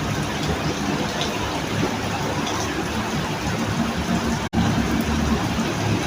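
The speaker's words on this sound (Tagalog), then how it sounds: "Grabe guys, lakas ng ulan." A heavy April downpour makes a continuous, loud, dense hiss with no voices, broken only by a momentary dropout near the end.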